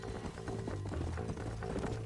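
Horse hooves clip-clop at a steady rhythm in the Red Dead Redemption video game, set in New Austin, a continuous close clatter over low rumbling game ambience.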